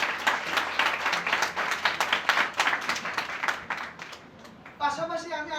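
Applause for new students at an engineering institute's freshers' welcome, a steady patter of many hands clapping through a reverberant hall that fades near the end as a tonal sound takes over.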